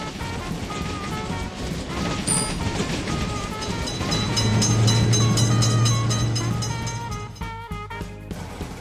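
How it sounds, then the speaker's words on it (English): Train passing a gated road crossing in an Indian train simulator game: a rising rolling rumble with a long low horn-like tone at its peak, fading into stuttering, fragmented noise at the end. "Train is coming."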